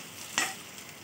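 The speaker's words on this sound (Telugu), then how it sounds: "మసాలా బాగా అంటుకునేలా చపాతీనంతా కలిపేసుకుందాం." A single short scraping stir of chapati noodles being tossed with masala in an oiled pan, one quick burst of sizzle and scrape standing out from a quiet, faint background.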